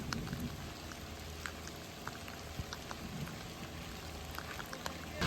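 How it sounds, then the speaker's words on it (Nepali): Steady rain patters on a hillside jungle trail, a dense continuous hiss with scattered close drops tapping on surfaces throughout. "यस्तो छ पानी परेको छ"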